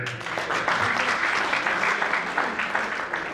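An alumni meet audience applauds steadily, a dense continuous patter of many hands filling the room at even loudness from start to finish.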